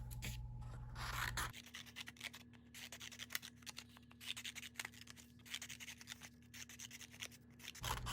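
Scissors snip and rasp steadily through paper, cutting strips for a paper-weaving loom, a dense run of small crisp cuts close by under a faint steady hum, with no speech.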